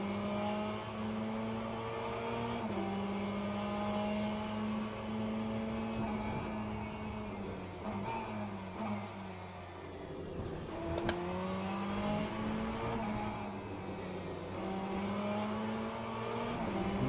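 Ferrari race car engine lapping Imola in a racing video game, a loud, continuous high-revving drone from the cockpit that rises and falls through gear changes, with brief clicks from the shifting.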